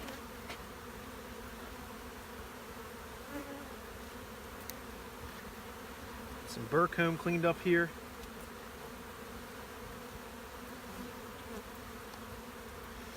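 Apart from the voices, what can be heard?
honeybees buzzing at hive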